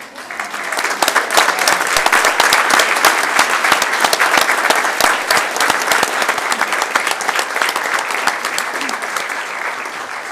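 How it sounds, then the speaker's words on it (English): An audience at a school district board meeting applauds social workers: dense, steady clapping from many hands, close and loud, building quickly and sustained for about ten seconds with a slight taper at the end. "It's to be applauded, as we just did."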